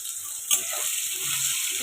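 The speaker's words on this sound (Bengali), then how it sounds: "এই সয়াবিনগুলো দিয়ে দিচ্ছি সয়াবিনটা একটু ভেজে নিতে হবে" Soybean chunks frying in hot oil in a pan, an even hiss of sizzling with a brief sharp crackle near the start, close and steady with no talking.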